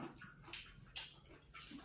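A dog whimpers and yips in short, soft bursts against quiet household background noise, close by and alone without speech.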